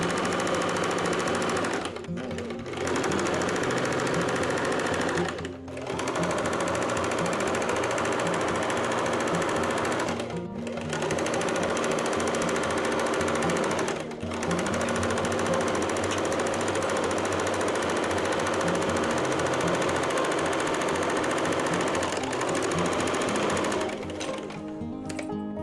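A power sewing machine runs loud and steady, stitching a U-shaped neckline on a garment, its continuous rapid mechanical chatter broken by a few short pauses as the fabric is repositioned.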